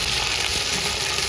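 Oil crackling loudly and steadily in a pan as a Gujarati desi kadhi tempering with mustard seeds and curry leaves is made, a continuous close hiss with no voices.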